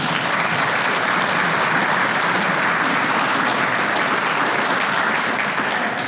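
Roomful of volunteers applauding themselves at a nature center's 50th anniversary celebration, steady dense clapping that holds evenly loud throughout with no talking.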